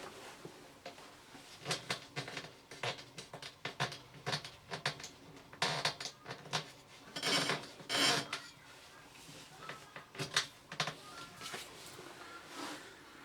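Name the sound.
tightening the bottom adjusters of a Lindam Easy Fit safety gate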